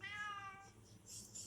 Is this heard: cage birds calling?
no